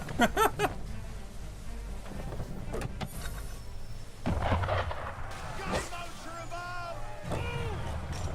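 Cannon shots boom from a ship in Assassin's Creed 3, a few sharp blasts among game ambience, with characters talking partway through.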